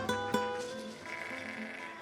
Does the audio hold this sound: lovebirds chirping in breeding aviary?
no